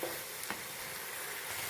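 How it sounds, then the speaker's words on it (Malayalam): Onion masala being sautéed in oil for Kerala-style egg pepper roast, a brief continuous sizzle with a light stir, quiet and without voices. "പിന്നെ നല്ലതുപോലെ ഇതൊന്ന് വഴറ്റിയെടുക്കാം."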